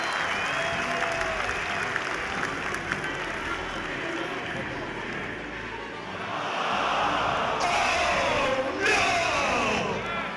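A large crowd roars and applauds at a football throwing contest during a live show event, a loud sustained cheer that swells toward the end, with a voice speaking over it.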